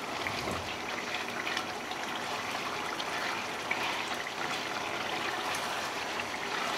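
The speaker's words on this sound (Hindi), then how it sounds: "तो अच्छे से मिक्स करने के बाद हम डाल देंगे यहाँ पे करीब 1 कप पानी।" About a cup of water is poured into a pan of chicken curry, giving a steady trickling, splashing wash of liquid that runs continuously at a moderate level with no talk.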